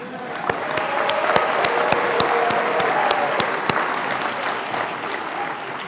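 Applause from graduates, friends and family at a university medical school summer graduation ceremony, a sustained wash of clapping with sharp individual claps standing out, steady and fairly loud throughout with no speech.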